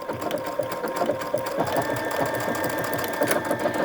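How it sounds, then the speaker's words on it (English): A sewing machine embroidering the letter F, running steadily and loudly with a fast, continuous mechanical stitching rhythm and no talking over it. "So I'm just going to go ahead and start stitching, and it's stitching out the letter F."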